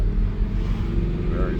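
A Honda Civic rolls slowly past in traffic, a brief low engine rumble close by with a voice speaking over it.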